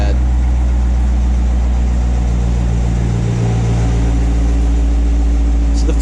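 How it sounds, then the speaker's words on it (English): Chevrolet Corvette Grand Sport with its stock exhaust idling, a loud, steady low rumble that holds even throughout, with a slight swell near the middle. "I always love the sound of this exhaust"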